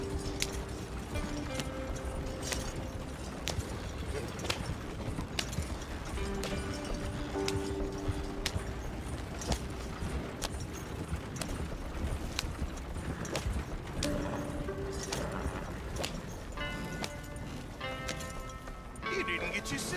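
Horse hooves gallop in a steady clip-clop rhythm in Red Dead Redemption 2, running throughout under game music and spoken dialogue.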